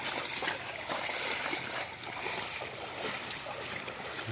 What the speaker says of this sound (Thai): น้ำไหลตลอดเลยครับ